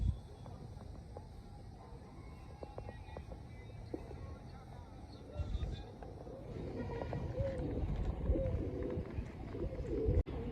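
Pigeons coo softly in a loft or rooftop setting, low murmuring calls repeating under nearby people talking and a few sharp knocks and shuffles.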